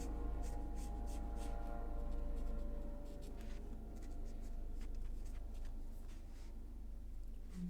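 A Tombow dual brush pen marker moves across paper in soft, continuous scratchy strokes, close and quiet, with no one talking.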